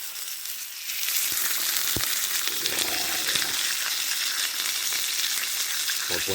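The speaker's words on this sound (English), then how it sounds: "Nice sirloin steak. Sizzle time." A sirloin steak sizzles loudly and steadily over a campfire while wild camping in Scotland, with a few faint crackles and pops mixed into the continuous frying hiss.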